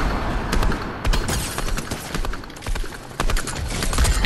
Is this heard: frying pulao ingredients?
no